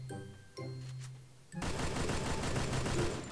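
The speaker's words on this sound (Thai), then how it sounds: "แล้วก็ไปลองยิงกัน มาดูว่ามันจะลั่นขนาดไหนนะทุกคน" A Groza Evo rifle fires in the mobile game Free Fire, first a few short menu tones and clicks, then a loud sustained burst of rapid automatic gunfire continuing to the end.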